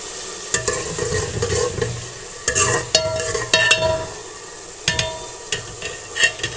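Onions sizzle and fry steadily in a pan, with occasional sharp scraping and clinking as they are stirred.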